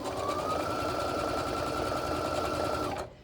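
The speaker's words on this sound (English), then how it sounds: "So I'm gonna just sew this right down the edge." A sewing machine stitches fabric scraps down the edge in one steady, fast, close whirring run that stops abruptly near the end.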